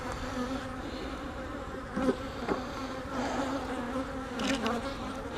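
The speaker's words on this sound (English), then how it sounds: "Thousands of angry bees between your legs" A swarm of angry honeybees buzzes close around during a hive inspection, a continuous dense drone with individual bees swelling louder as they pass near.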